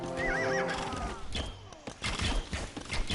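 A horse neighs with a loud, wavering whinny in the strategy game Age of Empires II Definitive Edition, set in a Babur campaign battle, with hoof clops and battle noise mixed in.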